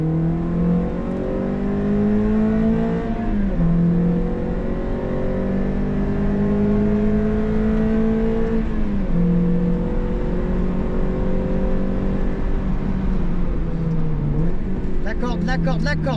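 A car accelerating hard on a race track during a driving lesson, the engine note climbing through the revs, dropping briefly at a gear change and rising again, loud and close from inside the cabin.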